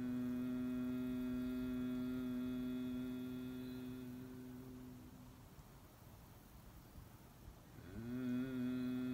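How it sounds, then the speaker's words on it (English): During yoga breathing a person hums a steady, low, sustained tone on the exhale, fading into soft breath noise in the middle before a fresh hum starts again near the end. "Two more, humming on your exhale."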